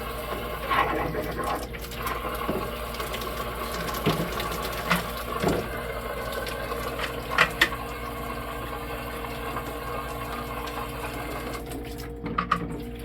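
Tap water running at low flow to rinse grit out of an Aquasana water filter housing, a steady close hiss and splash throughout with a few small knocks and clatters, no talk.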